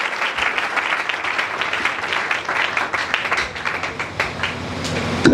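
A church congregation applauding during a French-language service, with dense, sustained clapping from a crowd that swells slightly toward the end.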